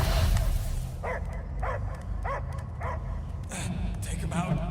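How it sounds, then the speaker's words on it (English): Dog barking in the video game Marvel's Guardians of the Galaxy: a steady series of five or six sharp barks at an even rhythm, heard over a constant low game soundtrack rumble. "I hear only barking"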